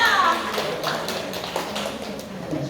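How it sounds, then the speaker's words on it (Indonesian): A church congregation answers the preacher with applause. The scattered clapping is mixed under talking voices and stays fairly even throughout. "Tepuk tangan Bapak Ibu"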